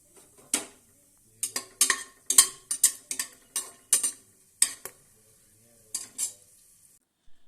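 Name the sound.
cardamom, cinnamon and cloves added to hot oil in pan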